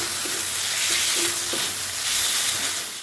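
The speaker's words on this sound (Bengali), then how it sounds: "এটাকে মশলার সাথে আমি ভালোভাবে একটু মিশিয়ে নেবো।" Fried potatoes being stirred into a spiced masala in a hot pan, with a steady sizzle and a few scraping strokes of the spoon; close and fairly loud, with no talking.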